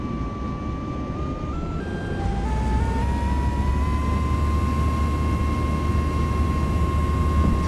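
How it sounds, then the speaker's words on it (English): Jet engines of a Southwest Boeing 737 Max 8 spool up on the takeoff roll, a loud steady roar whose whine climbs in pitch in steps and then holds, with no talk over it. "Runway heading cleared for takeoff."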